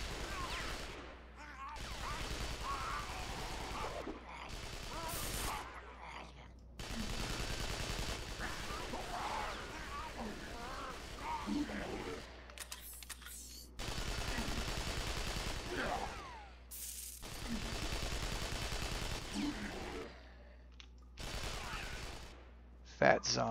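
Bursts of rifle gunfire in a London 2038 zombie video game, with repeated rapid volleys separated by short pauses and game sounds in between.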